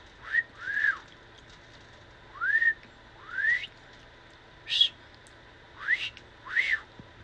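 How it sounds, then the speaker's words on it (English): A person whistles to a cockatiel in a series of about seven short, rising whistled phrases separated by brief pauses. The whistling is clear and close, with no talking. "I'm trying to whistle."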